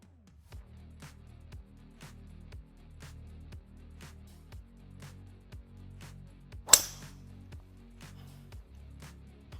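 A single sharp golf tee shot struck into a Garmin Approach R10 launch-monitor simulator, one loud crack standing out over a steady low background hum and faint repeated ticking.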